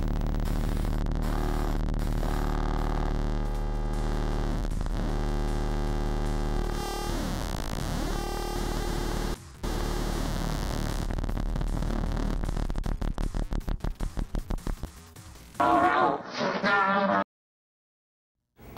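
An analog synthesizer has one oscillator sweeping its filter open and closed, giving a loud buzzing drone that pulses in a repeating rhythm, speeds into rapid stuttering near the end, then cuts to silence.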